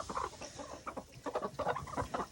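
Backyard chickens cluck in short, irregular bursts close by, a busy murmuring flock with no other sounds.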